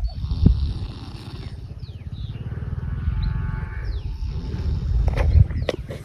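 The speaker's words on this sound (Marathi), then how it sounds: "तर हे बघू शकता कसलं घोरतायत." Labourers asleep under a mango tree snore in a deep, rumbling rhythm, loud and close, with a few faint birds and distant noises around them.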